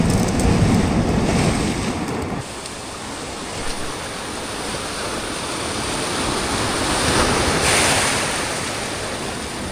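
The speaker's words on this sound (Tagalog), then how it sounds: "Grabe yung alon guys." Ocean waves surge and crash around a small fishing boat out at sea, a loud, rushing roar mixed with gusty wind buffeting the microphone, swelling and easing in long waves without speech.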